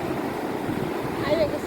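Big ocean waves roll in at Serang beach in Blitar, East Java, giving a continuous loud wash of surf mixed with wind buffeting the microphone.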